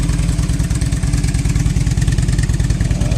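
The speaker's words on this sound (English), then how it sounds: "Look at that motor rock and roll." A motorcycle engine idling up close with a loud, steady, rapid low-pitched throb, in a cobalt blue bike with blue LED accents and missing engine bolts, rocking as it runs.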